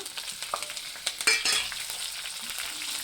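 Curry leaves, three or four sprigs, crackle and sizzle as they drop into hot oil for a tempering for a ripe red chili pickle, with sharp pops over a steady frying hiss and light stirring, close and alone without talk.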